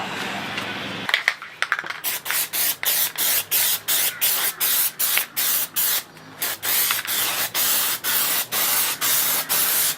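Rapid bursts of spray paint hiss from an aerosol can while a coat goes onto a DIY gauge pod for a Mazda RX-7 FD3S, short regular sprays repeating close and loud throughout.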